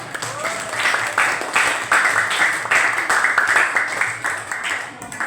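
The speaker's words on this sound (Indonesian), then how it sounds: "kita berikan tepuk tangan untuk semua kelompok tadi yang sudah ke depan ya" A classroom of students claps for the groups who presented, a steady burst of fairly close, rhythmic hand claps lasting several seconds and fading slightly at the end.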